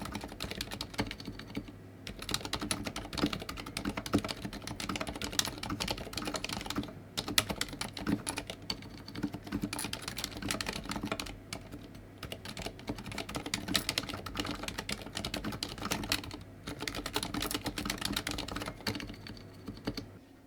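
Steady, continuous typing on a Varmilo Miya Pro Koi mechanical keyboard with silent red switches, a dense run of soft, muted keystrokes over about twenty seconds with brief pauses.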